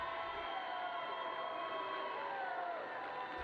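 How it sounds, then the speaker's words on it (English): Steady crowd cheering and whooping at a women's rugby league grand final between Sheffield Eagles and Illingworth, a continuous distant roar of spectators with no breaks. "The crowd pick up their noise."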